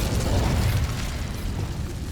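Incendio fire spell in Hogwarts Legacy bursting into a loud, rushing whoosh of flame with heavy low rumble, sustained for about two seconds without any voices.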